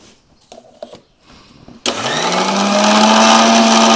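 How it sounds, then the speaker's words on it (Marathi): A kitchen mixer grinder blending neem leaves starts up abruptly after a few soft clicks and handling noises, then whirs loudly and steadily, its motor pitch settling into a sustained grinding drone. "एखादी जर वस्तू मिक्सरच्या भांड्यात अशी आपल्याला वाटायची असेल की ती लगेच वाटून होणार नाही, त्यासाठी आपल्याला बटन बंद चालू करायचं"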